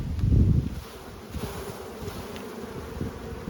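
Honeybees buzz around a brood comb lifted from a hive, a close, dense drone that swells loudly at first and then settles into a steady hum.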